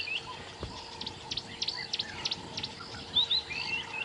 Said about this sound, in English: We can just hear all the birds.